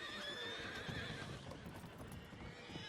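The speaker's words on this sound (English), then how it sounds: "Move the horses." Horses move with clip-clopping hooves and whinnying calls in an old western setting, the hoofbeats and neighs mixed into a busy, continuous outdoor soundscape at moderate distance.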